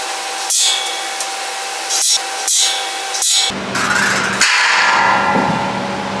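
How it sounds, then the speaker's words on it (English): Four sharp metallic pops from a spring-loaded punch striking a steel door at irregular intervals over faint background hum, then a loud whirring machine noise takes over. "This is a spring punch, by the way. Just springs and pop like this."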